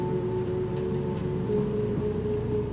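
Steady rain falls in the zombie-apocalypse game Crafting Dead, a continuous close wash of patter with a low background drone and no talking over it.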